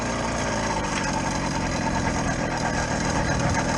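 A motor vehicle engine running steadily at idle before a ride on snow and sleet, a continuous close rumble with no talking.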